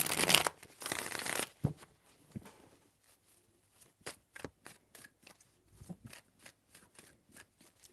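Tarot cards being shuffled, with a dense riffle of card noise at the start, followed by scattered soft taps and slides of the cards being handled.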